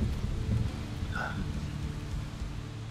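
Steady rain hisses across the whole scene in a video game, with a low rumble of thunder rolling underneath, constant and fairly soft.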